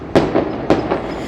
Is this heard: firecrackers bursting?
yes